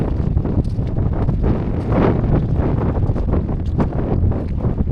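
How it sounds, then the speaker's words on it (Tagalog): Strong northeast monsoon wind (amihan) buffeting the microphone outdoors near a boat, loud continuous gusty roar with rustling bursts across the whole stretch and no voices. "Nag-ihip na naman ng amihan"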